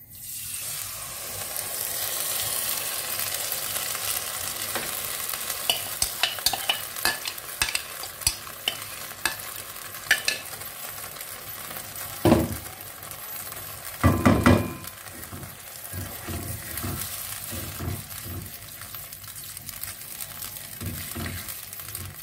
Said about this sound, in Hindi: ये वो सूजी और दूध में मिक्स करके इसमें डाल रही हूँ।